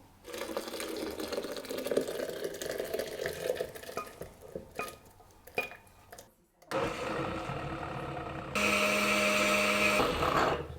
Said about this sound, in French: je vais tout mixer au blender